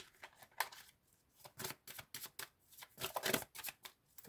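Tarot cards are shuffled for a reading in a quiet room, with a run of soft, irregular riffling bursts that pick up toward the end, and no talk.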